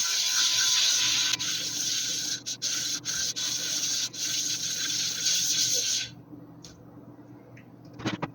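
A Boride or KosiM sharpening stone is being flattened by rubbing, producing a continuous loud gritty scraping for about six seconds with brief pauses. The rubbing then stops, leaving quiet room sound and a few taps.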